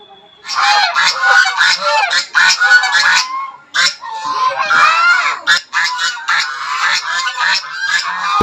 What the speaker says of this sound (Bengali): এখানে কয়েকটি রাজহাঁস দেখতে পেলাম যা ছাড়া অবস্থায় রয়েছে